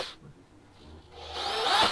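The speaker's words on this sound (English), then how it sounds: "and I'll drill three holes." A power drill drilling holes during a boost gauge install on a turbocharged LS minitruck whirs up to a loud, rising whine near the end, after a quieter stretch of low rumbling and rubbing.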